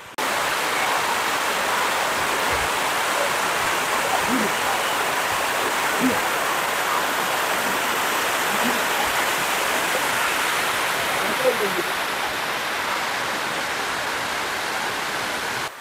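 Water pours continuously into a shallow natural bathing pool, a loud, close and steady rushing roar that holds unbroken for the whole stretch with no voices.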